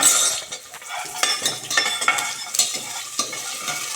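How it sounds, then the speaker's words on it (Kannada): Curry leaves and garlic crackling in hot oil for a spinach sambar tempering: close, busy popping and spitting with a bright sizzle, and a few utensil scrapes and clinks against the pan. "ಆಮೇಲೆ ಒಂದು ಬೆಳ್ಳುಳ್ಳಿ ಹಾಕಬೇಕು ನೋಡಿ ಈ ಥರ ಚಟಪಟ ಅಂದಮೇಲೆ"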